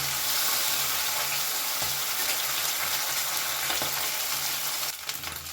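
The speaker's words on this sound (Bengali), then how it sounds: "এবার এই মাছগুলোকেও আমি উল্টো পাল্টে তাল করে ভেজে" Fish frying in a kadai for a Bengali amudi-fish jhal chachchari, turned over in the oil: a steady close sizzle with scraping stirs, ending in a brief clatter.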